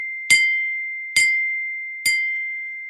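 Glass bottle struck three times at an even pace, each bright ding ringing on as a long steady tone that carries between hits, close and alone.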